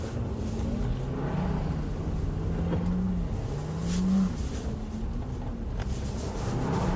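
A heavy 2020 Bentley V8 Continental Convertible drifts on snow, its engine droning steadily close by with rising and falling revs and a brief louder surge midway.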